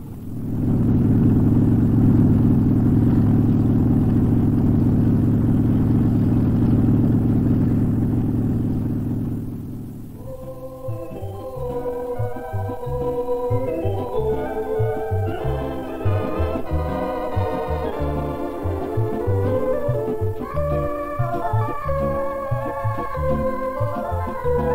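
A Ka-26 helicopter with its rotors running gives a loud, steady, throbbing drone for about ten seconds, then fades out as music takes over.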